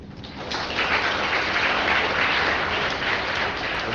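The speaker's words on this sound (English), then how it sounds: "Applaud yourself." An audience of engineering students breaks into broad applause that builds quickly within the first half second, then holds as a dense, steady patter of many hands before easing slightly at the end.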